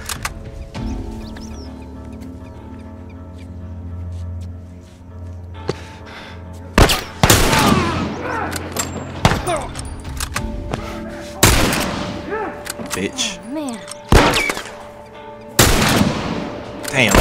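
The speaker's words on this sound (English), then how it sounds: "This hunting rifle do work though, low key." Hunting rifle shots in the video game The Last of Us, several loud sharp cracks spaced irregularly among quieter game ambience, with someone talking between some shots.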